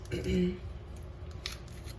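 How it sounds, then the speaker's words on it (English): A knife or blade cuts bell peppers into strips for a stir fry of glass noodles, a few close crisp slicing sounds over a steady kitchen background hum, with a brief voice-like tone early on. "go ahead and cut these the peppers that are going to go into our stir fry into strips"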